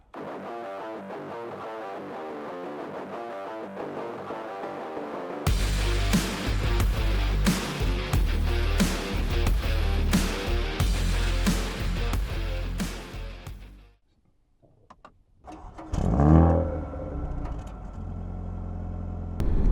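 After a quiet stretch, a Mercedes-AMG A35 engine fires up and revs in loud bursts of rising and falling roar. It drops to near silence, then a closer sweep of revving builds again.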